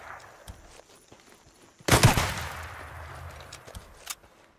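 Gunfire in the video game Days Gone: one loud, close shotgun-like blast rings out and decays over a second, with a fainter crack shortly after amid quiet ambience.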